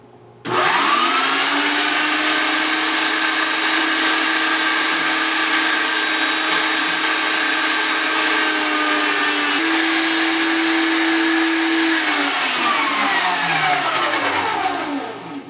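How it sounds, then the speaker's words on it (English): An electric meat grinder runs steadily, grinding pork on a medium grind for breakfast sausage, a loud continuous motor whine that shifts pitch briefly under load and then spins down at the end, with no talking. "So we're going to grind this up. All I'm doing is using a medium grind"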